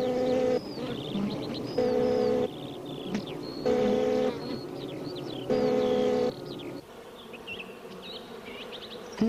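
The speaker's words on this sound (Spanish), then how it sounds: "Las abejas se dirigen hacia allí sin dilación." Bees fly close by in a steady, droning buzz that rises and falls as they pass, with a few louder passes in a pulsing rhythm and no voices.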